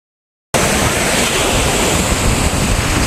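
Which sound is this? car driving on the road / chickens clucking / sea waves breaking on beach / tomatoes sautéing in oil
sea waves breaking on beach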